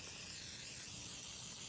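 WD-40 sprayed from an aerosol can onto the metal bearings and joints of a Tekno SCT410.3 RC truck, one continuous steady hiss, close and fairly quiet, with no talk.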